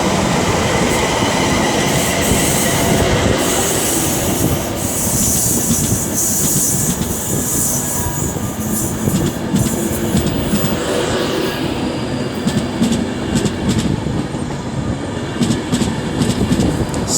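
Avanti West Coast Class 390 Pendolino 390-002 pulling out of Stafford station on the West Coast Main Line, a loud close rumble of wheels and traction with rail clatter and squealing, no voices.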